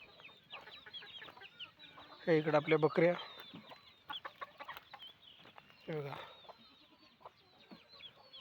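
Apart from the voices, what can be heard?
chickens clucking on a farm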